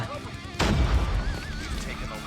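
Gunfire in the mobile shooter Call of Duty: Mobile, with an MX9 rifle in use: a sudden loud burst of shots hits the mix, then fades into continuing game noise and a sustained electronic tone.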